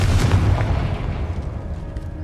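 A Confringo fire-blast spell cast in Hogwarts Legacy, heard as one heavy close boom at the start that rumbles away over the next two seconds with no talking.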